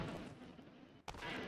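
UMP gunfire in the PUBG Mobile video game is a dense, muffled burst of shots over game ambience, with one sharper crack near the end.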